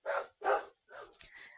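Dogs bark outside as neighbors walk their own dogs nearby: two sharp, loud bursts of barking followed by a looser run of yips and whines, fairly close.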